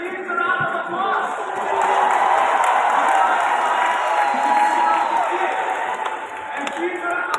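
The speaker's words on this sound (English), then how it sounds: "Give a round of applause" An audience at a large rally in Delhi, India applauds loudly and steadily, a dense wash of clapping and crowd noise with some cheering that swells slightly through the middle and holds throughout.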